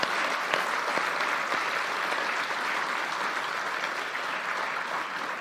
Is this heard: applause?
yes